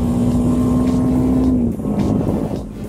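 A BMW G310GS motorcycle accelerates to overtake on the road, its engine droning steadily and shifting pitch partway through over loud, continuous wind rush.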